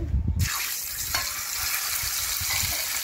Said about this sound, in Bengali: এটা এবার আমি এখানে ভাজা দেখাচ্ছি